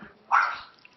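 A pet dog barks at the mailman, giving a single short, fairly faint bark in an otherwise quiet room.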